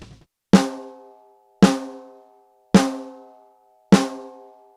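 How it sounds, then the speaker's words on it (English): Four single hits on a real Pearl Masterworks snare drum, evenly spaced about a second apart. Each is a sharp, close crack with a ringing, slowly decaying tone, and no voices are present. "Here's a real Pearl Masterworks snare and it sounds like this."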